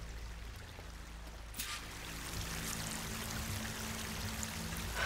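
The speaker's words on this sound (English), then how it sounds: "That waterfall must be coming from somewhere." A waterfall in Horizon Forbidden West rushes with a steady, broad roar of falling water that grows fuller and stays continuous, without talk.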